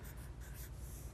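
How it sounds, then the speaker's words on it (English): Handwritten numbers scratched out with a pen or pencil, a faint, close, steady scratching over about a second with no voices. "So I'm going to now write 12."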